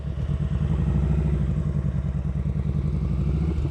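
A motorcycle ridden at slow speed while the rider works the clutch, giving a steady, loud, close engine chug with a rhythmic pulsing throb and a faint mechanical clatter, no voices.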